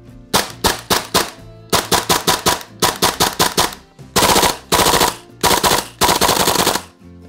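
A Tokyo Marui M4A1 gas blowback airsoft carbine fires loud, close bursts of rapid sharp reports, several strings of shots and full-auto rattles separated by short pauses, with no talking.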